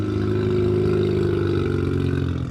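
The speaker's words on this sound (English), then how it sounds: "It's a really loud RX-7" A loud Mazda RX-7 drift car at a drift event holds a steady, harsh engine drone with strong buzzy harmonics, close and sustained without pause, no voices present.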